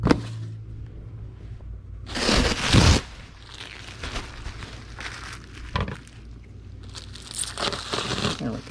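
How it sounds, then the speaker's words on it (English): A sheet of bubble wrap is handled and crinkled while packing items for shipping, giving bursts of crackling rustle, loudest around a few sharp handling moments, with quieter rustling between. "We need a sheet of bubble wrap that will cut in half."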